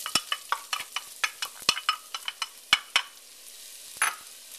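Onions hitting hot olive oil in a soup pot, a series of sharp, close scraping and sizzling bursts as the vegetables are stirred, irregular in rhythm, with a louder splash of frying near the end.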